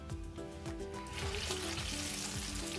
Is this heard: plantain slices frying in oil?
yes